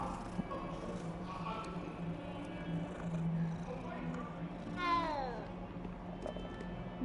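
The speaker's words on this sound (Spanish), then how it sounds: "Un gato." A cat meows in the Hogwarts Legacy video game, one clear drawn-out harmonic meow near the middle, heard over a steady low bed of game ambience and background noise.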